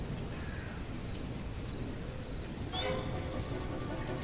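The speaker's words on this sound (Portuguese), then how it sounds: "A chuva caía forte lá fora e logo a noite chegou." Heavy rain falling steadily outside at night, a dense continuous hiss throughout, with a faint brief bird call near the start and a slightly brighter spatter toward the end.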